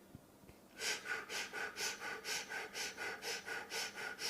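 Rapid fire-breath exercise: a quick rhythmic series of about a dozen sharp nasal exhales, evenly paced at roughly three per second, close and fairly loud after a brief quiet pause.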